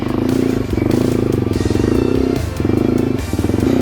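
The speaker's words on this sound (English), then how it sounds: "I'm just drifting all around here" A Yamaha TW200 motorcycle drifts through snow in a forest, its single-cylinder engine a loud, steady, close thump with rhythmic pulsing and brief dips as the throttle eases and catches again.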